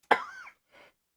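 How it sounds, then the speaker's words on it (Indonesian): A single short, sharp cough from a preacher during a sermon, followed by a softer brief throat sound, close and otherwise quiet. "Mohon maaf, saya masih ada batuk sedikit ya"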